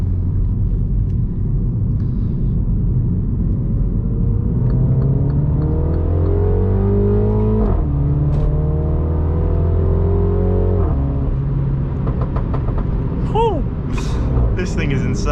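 A MINI JCW F56 engine accelerates hard through the gears on a night drive, a rising rumbling drone that climbs in pitch, drops at each shift and climbs again, loud and continuous, with a person talking over it.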